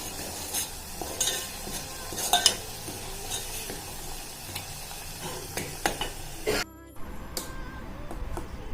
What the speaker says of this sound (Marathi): कांदा पूर्ण असा फ्राय होऊ द्यायचा आहे आपल्याला